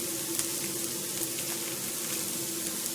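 Cauliflower pieces fry in olive oil, with some extra shallot oil, over high heat in a pan. A steady, close sizzle of bubbling oil runs without a break, and there is no talking.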